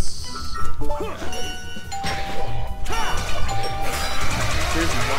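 A ding-dong doorbell chime in the video game Sonic Unleashed sounds several times among crashing, whooshing game effects and music, with a voice talking over it.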